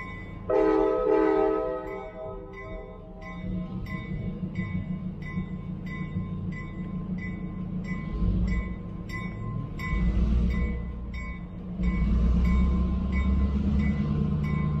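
A 101-car Reading & Northern freight train rolls past with a loud, sustained horn blast followed by repeated horn tones over the low rumble and clatter of the moving cars, heard from close by.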